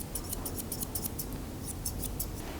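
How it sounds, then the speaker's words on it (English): Grooming scissors snip rapidly at a dog's coat, a quick run of light metallic clicks close by, repeating in bursts over a steady low background. "using the tips of my scissors, just scissor off any little bits of hair we've missed"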